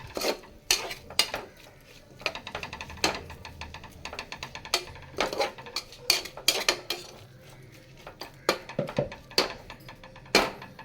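A plate is set over a pot of cooking tomato rice as a makeshift lid, producing a series of sharp metallic clinks and clatters scattered irregularly over a quiet kitchen background.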